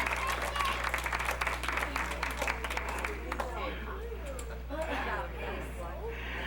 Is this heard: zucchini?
no